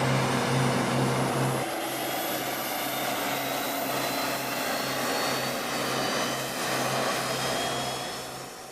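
Jet engines on a black stealth aircraft spooling up at night, a loud steady roar with a rising whine that holds across the whole stretch, no voices over it.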